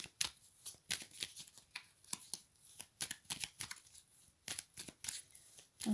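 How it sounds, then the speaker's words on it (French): Deck of oracle cards being shuffled and drawn by hand, a rapid series of soft, crisp riffling snaps and flicks, close and quiet. "je vais reprendre une carte"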